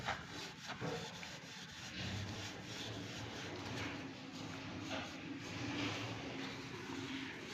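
A paint roller works over a wooden door, giving a steady, continuous rubbing and rolling sound at close range, alone with no talk.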